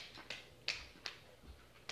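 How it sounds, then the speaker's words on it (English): Sharp, quiet hand claps, about five or six of them at uneven intervals, close and isolated against near silence. "Claps, claps, claps, claps."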